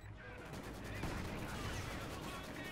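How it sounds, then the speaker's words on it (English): Heavy mortar fire and impacts in Company of Heroes 2, a dense, continuous wash of loud battle noise with booming hits and gunfire layered throughout. "Nice mortar hit, by the way."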